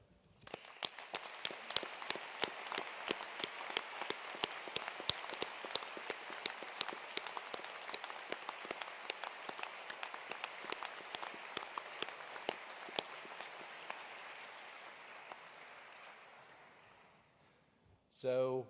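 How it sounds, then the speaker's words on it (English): Sustained applause from a university graduation ceremony audience in Edinburgh, a dense, steady patter of many hands clapping for about seventeen seconds before fading, with a brief voice at the very end. "Graduates and colleagues, please join me in applauding the supporters who for various reasons are unable to be here in person today,"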